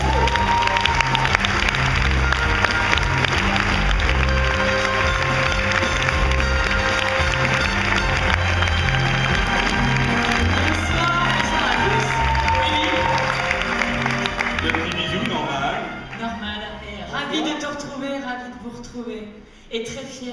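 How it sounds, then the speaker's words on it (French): A crowd at a French beauty awards ceremony bursts into loud, sustained applause and cheering over pulsing event music, the clapping thinning out toward the end. "Gossuin sous un tonnerre d'applaudissements"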